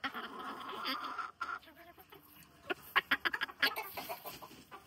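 Chickens cluck around an egg-laying spot on a farm in the morning, with a scuffle between two roosters. The clucks come as a quick, choppy run of sharp calls that grows busier toward the end, close by over a soft background.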